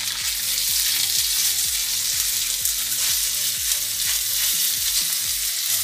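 Minced meat fries in a sofrito for potato gnocchi sauce, a loud dense sizzle with rhythmic spoon knocks and stirring against the pan.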